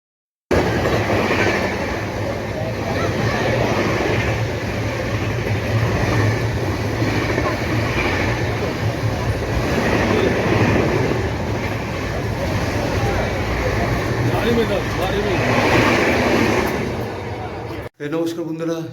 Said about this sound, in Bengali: বন্ধুরা, আমাদের ট্রেনে খবর হয়ে গেছে রাধিকাপুর হাওড়া কুলিক এক্সপ্রেস।